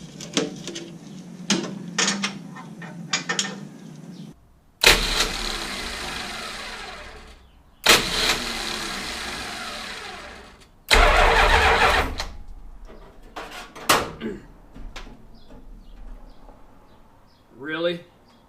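Starter cranking and bursts of a 440 engine in a junkyard 1969 Dodge Charger dirt track car, several loud attempts separated by pauses, with people talking between tries.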